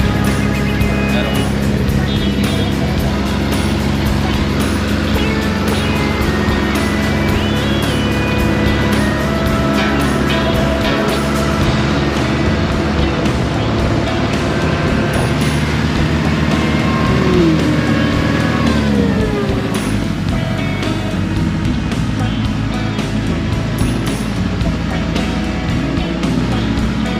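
Motorcycle climbing a hill, its engine droning loudly and steadily for the whole stretch, with the pitch rising and falling as the rider shifts, and someone speaking over the engine noise.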